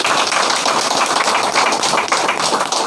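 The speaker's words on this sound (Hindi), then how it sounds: "तो डिएक्शन जैसा प्लेटफॉर्म के लिए एक बार जोरदार ताली होना चाहिए।" A crowd gathered at an event in Ranchi breaks into hearty applause, a dense and steady wash of clapping that holds at full strength for about three seconds with no voices over it.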